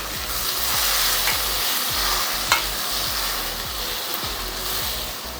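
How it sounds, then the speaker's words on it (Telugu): Tomatoes fry in a hot pan for masoor dal and are stirred with a steady, loud, close sizzling hiss. Faint scrapes of the spoon sound at regular intervals, with a single sharp knock, and no one speaks. "ఇప్పుడు టమాటా వేసుకుందాం"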